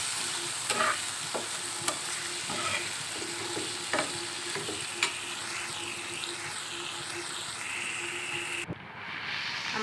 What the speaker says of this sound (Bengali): মাছগুলো দিয়ে আমি ভালো করে মাছগুলো কষিয়ে নেব